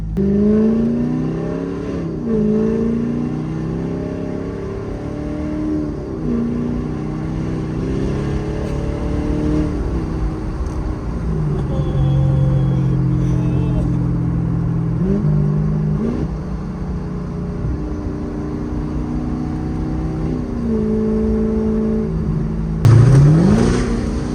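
A rebuilt Corvette's engine drones and revs as it drives, pitch rising and falling through gear changes, steady and close throughout.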